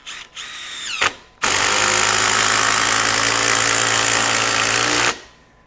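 A DeWalt DCF845 20V XR brushless impact driver sets a four-inch deck screw into wood: a couple of short bursts, then a loud, sustained rattling hammer-whine for several seconds before it stops abruptly.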